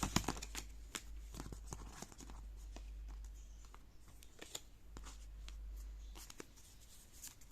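Tarot cards drawn and handled during a reading, faint papery clicks, slides and taps scattered close by over a low steady hum.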